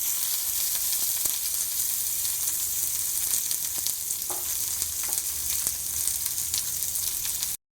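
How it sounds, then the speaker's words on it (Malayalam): Chopped onion frying in an iron pan, a steady, close sizzle holding at an even level throughout, with a few faint clicks and pops scattered through it. "ഇനി ഇതിലേക്ക് നമ്മൾ ഇട്ട് കൊടുക്കുന്നത് ഒരു സവാള അരിഞ്ഞത് ഇട്ട് കൊടുക്കുന്നുണ്ട് കേട്ടോ."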